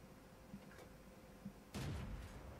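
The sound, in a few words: tank gun firing in World of Tanks video game, T40 tank destroyer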